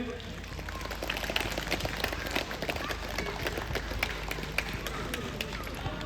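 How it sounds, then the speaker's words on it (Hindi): A crowd applauds at the closing ceremony of the 9th edition HDMT at Namsai ground. The clapping is dense and steady throughout, with a voice speaking over it. "तालियां बजाइए।"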